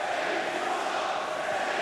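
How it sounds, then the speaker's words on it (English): A wrestling arena crowd roars in a dense, continuous wash of cheering and shouting, steady and fairly distant with no single voice standing out. "In the crowd here, really letting Sammy Guevara hear it."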